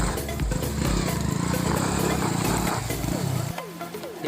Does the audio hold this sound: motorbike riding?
yes